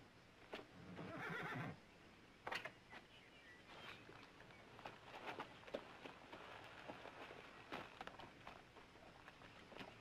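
Cow pony neighing loudly in a long whinny early on, followed by snorts, hoof clops and scattered rustling noises, near and fairly clear over a faint background.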